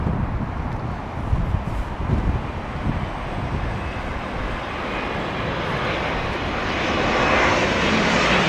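Airliner on landing approach at London Heathrow Airport in strong storm winds, a steady roaring jet engine with gusty wind buffeting the microphone, swelling louder toward the end.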